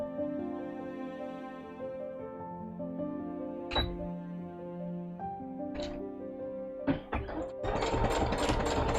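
A sewing machine stitches a cosplay costume piece in short runs, a steady mechanical whir that starts and stops with sharp clicks between bursts, ending in a faster, rattling stretch, close by with no voices.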